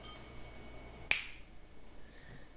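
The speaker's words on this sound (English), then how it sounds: "When I snap my fingers, I'm going to warp the space-time continuum." A single sharp finger snap cracks out once in a quiet room, with a short ringing tail and no voices.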